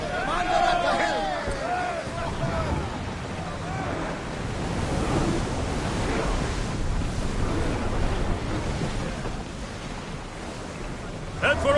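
A sailing ship from Assassin's Creed Odyssey cuts through ocean surf, with steady waves and wind noise running throughout and voices speaking over the sea sounds.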